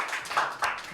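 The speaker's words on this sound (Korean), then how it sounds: "박수." Applause at a church youth Sunday service as February birthday celebrants are called forward, with short bursts of clapping from a small group, fairly close and moderately loud.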